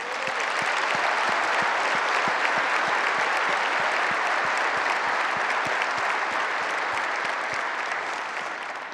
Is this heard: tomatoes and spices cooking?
no